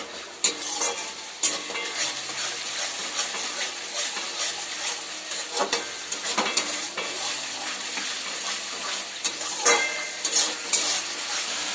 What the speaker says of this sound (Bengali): টমেটো সস একটু অ্যাড করে দেবো। নাড়তে থাকবো।